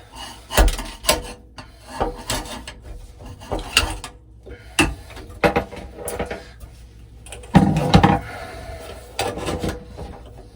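Hardened epoxy is filed off a countertop during faucet and garbage disposal installation, heard as a series of short, sharp scraping strokes at irregular intervals, close and fairly loud, with quiet gaps between them.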